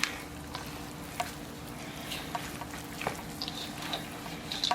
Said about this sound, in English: So I'm going to be stirring it.